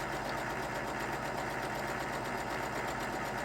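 A sewing machine runs steadily through a straight stitch on a purse, a continuous close mechanical whir with a fast, even rhythmic chatter and no pauses.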